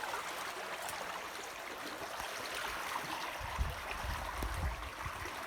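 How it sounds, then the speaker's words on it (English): Water rushing steadily through a mostly open gate on a creek fish ladder beside a regulator, a continuous broadband gush with low gurgling swells toward the end, close and without speech. "You can hear that water running through here."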